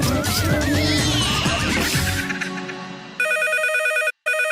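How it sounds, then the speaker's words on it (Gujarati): A telephone rings with an incoming call, a loud electronic warbling tone that starts after a burst of music and sound effects, repeating in steady pulses and then cutting off abruptly. "ફોન આવ્યો"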